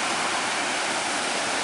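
Rushing floodwater after a dam breach in Altai roars as a steady, dense broadband wash, close and constant throughout, with no voices over it.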